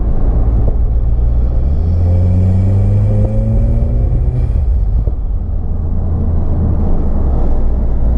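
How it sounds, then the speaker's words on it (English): A Volkswagen GTI with a cold air intake roars loudly and steadily close by, its deep engine rumble rising and falling through the whole stretch with no talking. "Just a cold air intake, that's pretty loud."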